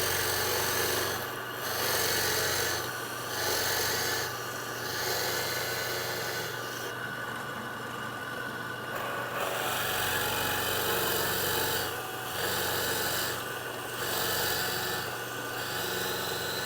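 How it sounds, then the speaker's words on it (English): A piece of beeswax rubbed over a wooden surface while prepping a work skiff for varnish, making soft, steady scraping strokes in a regular back-and-forth rhythm, close and fairly quiet. "give this surface a little rub down with this piece of beeswax, like so"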